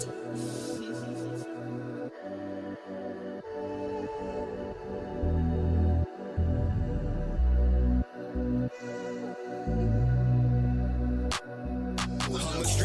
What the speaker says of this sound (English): This sounds like a crisp beat.